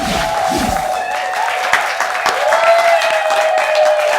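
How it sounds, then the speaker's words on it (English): Studio audience applauding on a news-comedy show, a steady wash of clapping throughout with a sustained tone running beneath it. "Please, a round of applause, a round of applause."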